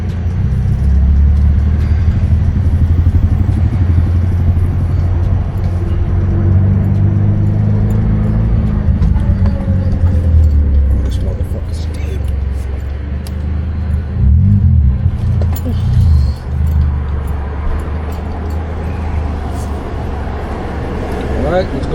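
Car driving at night, recorded from the driver's point of view, with a continuous low engine and road rumble throughout and a person talking over the drive.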